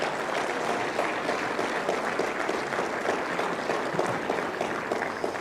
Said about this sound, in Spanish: les damos un fuerte aplauso más.